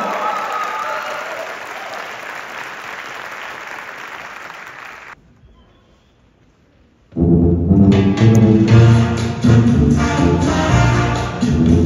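Audience applause greets a folklorico dance group at a Ballet Folklorico Xochipilli festival, with a softer stretch of clapping dropping almost to silence before a loud, full burst of applause and crowd noise returns.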